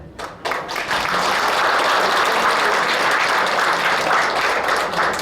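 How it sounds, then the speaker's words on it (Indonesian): Loud, close applause erupts from the audience at an inauguration ceremony, starting with a few claps and swelling quickly into a full, sustained ovation. "Kita berikan tepuk tangan."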